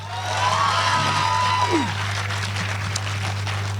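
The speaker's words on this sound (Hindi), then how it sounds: "अगर एक बार ताली बजाओगे तब बताऊंगा।" An audience at a Hindi comedy poetry gathering at a dental college in Meerut breaks into clapping and some cheering, a moderate crowd sound over a steady hum with a few whoops.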